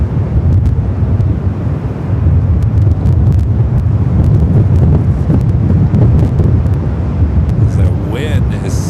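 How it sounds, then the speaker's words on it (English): Strong gusty wind roars steadily across the microphone at Los Angeles International Airport, a loud, continuous low rumble with no break for the full stretch. "The wind is still rocking the airport here today."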